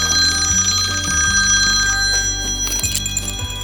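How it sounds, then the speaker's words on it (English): A telephone rings repeatedly in a dusty aircraft hangar during a Garmin avionics upgrade, with steady electronic trills over a continuous low hum and no talking. "telephone is ringing."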